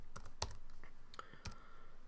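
Computer keyboard typing during a Raspberry Pi setup: a few close, sharp key clicks in quick irregular succession, quiet and without speech.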